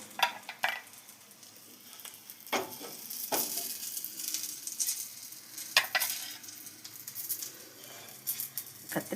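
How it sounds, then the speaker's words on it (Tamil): Brinjal fry sizzles in a pan beneath irregular stirring scrapes and bursts of crackle, faint and close, with no speech. "கம்மன்னு கத்திரிக்காய் ஃப்ரை சரியாக ரெடி ஆயிடுச்சு."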